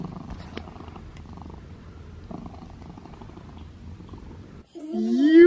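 A cat purrs up close in a soft, steady, rhythmic rumble for several seconds, ending with a brief, louder, rising vocal sound.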